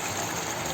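Worcestershire sauce pours in a steady liquid stream over chicken stroganoff ingredients with Dijon mustard and rosemary, a short, close, continuous gushing sound without pauses.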